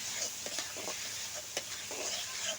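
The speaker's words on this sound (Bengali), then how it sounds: "তারপর আমি কড়াইয়ের মধ্যে মাছগুলো দিয়ে দিছি।" Small fish frying in oil in a wok, a steady faint sizzle with a few soft clicks and stirring knocks scattered through it, no voices.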